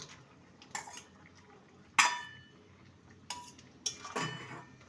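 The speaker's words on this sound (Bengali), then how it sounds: "এবার ভেজে রাখা বেগুন আর বড়ি দিয়ে দেব" Fried brinjal and lentil dumplings tipped into a simmering curry pot, heard as a few sharp metallic clinks and scrapes of a spoon against the pot, separated by quiet gaps.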